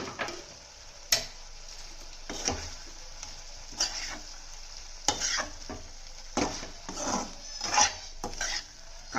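Cashew paste hitting a hot frying pan during prawn cooking, with sizzling and repeated stirring scrapes and clinks of a utensil against the pan, close and moderately quiet, in irregular bursts.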